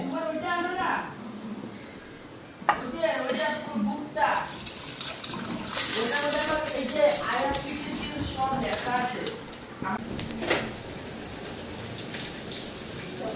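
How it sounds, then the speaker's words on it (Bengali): Water pours and splashes into a pressure cooker in a home kitchen, a steady running trickle under frequent talking, with a few clanks of the pot. "জলটা এখন প্রেশার কুকারে দিয়ে দেবো।"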